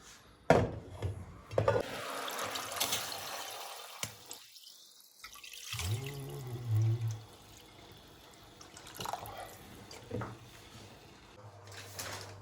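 Water running and splashing into a pot in a kitchen while making broth for pumpkin cream soup, with a couple of gushing pours, dripping, and a knock or clatter of cookware in between.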